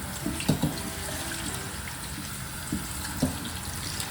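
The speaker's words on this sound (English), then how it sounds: "just sort of let the cold water sort of rub onto it there" Cold water runs from a kitchen tap over cooked pasta in a sink, a steady gentle splash broken by a few soft clunks as the pasta is tossed.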